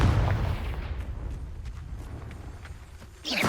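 Confringo blasting spell explosion in Hogwarts Legacy, a loud burst at the start that decays into a rumbling tail, with a second sharp blast rising at the very end.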